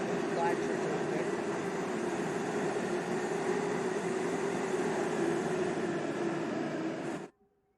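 A class 377 electric train in Train Sim World 2 rolls past with a loud, steady rumble and whine, then cuts off abruptly near the end.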